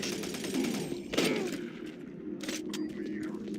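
Enemy gunfire in the video game DOOM 3, rapid bursts of shots over a low rumbling game background, with a sharper volley around the middle and scattered fainter shots after.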